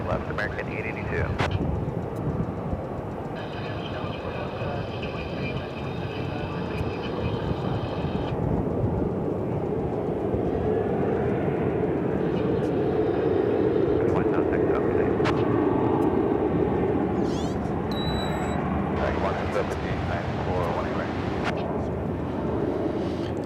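Jet airliners taking off and landing at Dallas Fort Worth International Airport produce a sustained distant roar that swells and fades, with air traffic control radio chatter and nearby talk over the top.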